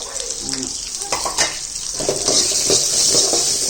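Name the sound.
chicken with ginger and garlic frying in a pan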